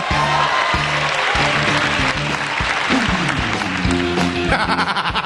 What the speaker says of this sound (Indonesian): Beri tepuk tangan untuk Bang Komeng.